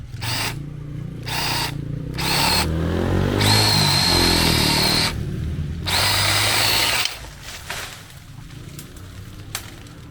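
Black & Decker LLP120 Alligator cordless lopper chainsaw cutting through branches outdoors, a loud close motor whine rising and dropping in several bursts as the chain bites, then easing off toward the end.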